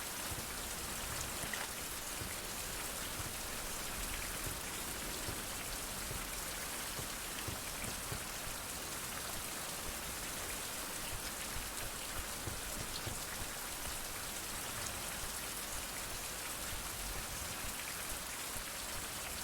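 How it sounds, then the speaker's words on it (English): Steady rain falls in a video game world, a dense, even hiss of drops that holds unchanged throughout with no voices. "Kinda wish it would stop raining."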